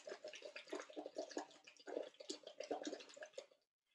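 Air blown through a tube about five centimeters deep into a bottle of water, giving a steady run of close bubbling and gurgling that stops abruptly at the end.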